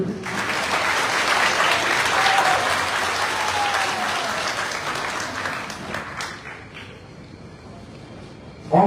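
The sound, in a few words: audience applause at party congress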